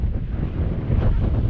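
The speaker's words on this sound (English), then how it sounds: "Getting windy again, as you can probably hear." Strong gusting wind buffets the microphone on a Scottish mountain summit near Beinn Eunaich, a loud continuous low rumble with a steady roar and no voices.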